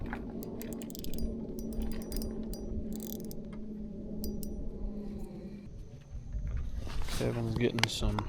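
Spinning reel on a fishing rod clicking in a rapid ratcheting run at the end, close and brief, after quiet outdoor lake ambience with a voice talking.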